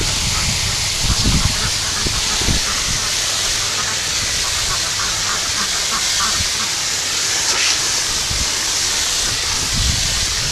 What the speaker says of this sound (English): Of course, Doug loves helping when it comes to filling up the duck tub.